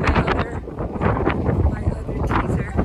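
Strong wind at Rockefeller Center in New York City at sunset roars and buffets the microphone continuously, with a voice partly audible beneath the rumble.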